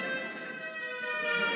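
A voice imitates a British emergency siren, holding a steady, buzzy wailing tone with strong harmonics, fairly close and unbroken for the whole short stretch.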